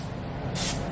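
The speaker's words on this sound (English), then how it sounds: "I'm gonna lightly spray this pan." A can of cooking spray sprayed onto a baking pan, a short close hiss starting midway and lasting about half a second over a steady kitchen background.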